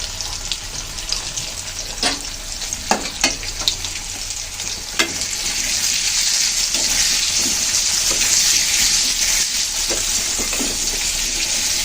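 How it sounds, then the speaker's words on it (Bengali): Potatoes frying until reddish in a pan while an ilish (hilsa) fish dish is cooked, giving a steady, loud, broadband sizzle with a few sharp stirring clicks and pops in the first half, and no talking. "আলুগুলো ভালো করে লালচে করে ভেজে নেব"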